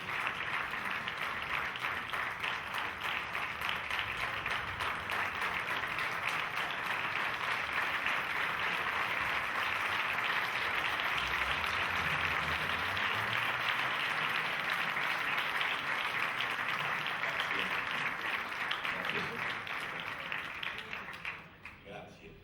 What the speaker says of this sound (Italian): e ovviamente invito Pietro e Lorenzo Volpe qui sul palco per ricevere il nostro applauso, che sono i nostri colleghi dell'Aquila.